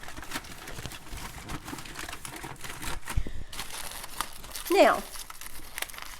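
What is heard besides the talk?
heavy duty aluminum foil being crumpled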